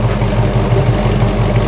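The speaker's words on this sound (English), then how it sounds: "the Camaro has a dual exhaust, pretty throaty" Throaty, smooth, even rumble from the dual exhaust of a Camaro Z28 muscle car, a steady close idle with a low pulsing beat that holds through the whole stretch, no voices.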